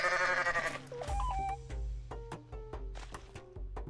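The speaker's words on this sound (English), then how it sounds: "Hello, goat friend." A goat in the video game Goat Simulator bleats in a drawn-out, wavering cry near the start, followed by a series of short game sound effects and clicks.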